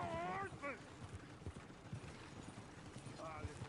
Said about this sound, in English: shit, the horse.